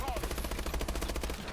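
Gunfire in the Call of Duty: Advanced Warfare video game, a fast, evenly spaced automatic burst of shots, loud and sustained over a low steady rumble.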